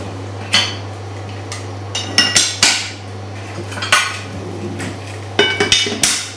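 Metal saucepans clank and knock repeatedly in a kitchen, sharp irregular clatters over a steady low electrical hum, with no talk.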